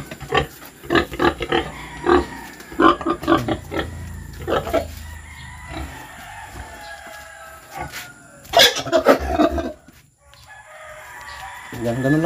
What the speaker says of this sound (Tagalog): pag-inject ng malaking baboy